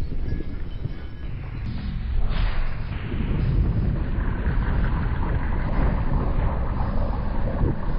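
A rocket launcher or recoilless weapon firing with a strong back-blast, heard as a sustained loud roaring rush with heavy low rumble that swells after a couple of seconds and continues steadily, wind-like and without speech.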